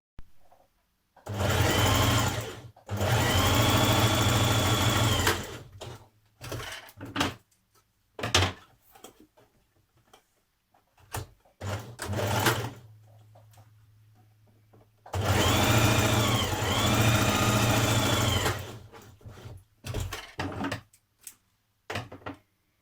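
Sewing machine stitching the shoulder seam of a sweatshirt at a 1.5 cm seam allowance, two long steady whirring runs separated by short bursts, pauses and small handling clicks, close and alone.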